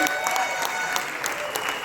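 An audience claps hands together in a steady, close, energetic burst lasting a couple of seconds, with bright individual claps standing out over the dense applause.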